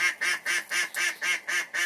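A duck quacks repeatedly in a steady rhythm, about eight loud, nasal calls close by with short gaps between them.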